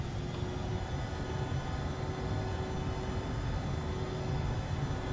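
Embraer E145 jet engines at full throttle during the takeoff roll in the X-Plane flight simulator, a loud steady roar with a whining tone holding constant throughout.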